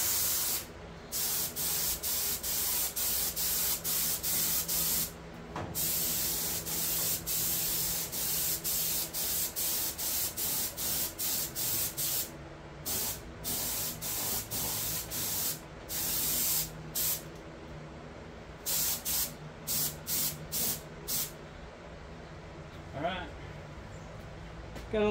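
Spray gun hisses in repeated short bursts while painting a golf cart body, a rhythmic series of close, airy sprays separated by brief pauses.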